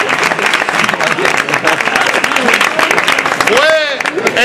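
Loud audience applause fills a Spanish-language comedic performance, dense clapping sustained throughout with crowd noise mixed in and a brief whistle near the end.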